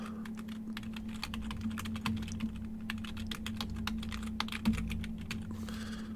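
A computer keyboard is typed on a Linux system, with a quick run of soft, close keystroke clicks and a faint steady hum underneath.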